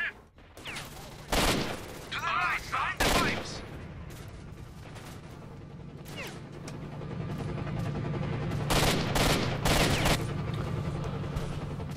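Rapid gunfire in a video game, with loud bursts of shots near the start and again toward the end over a steady rumbling background of battle noise.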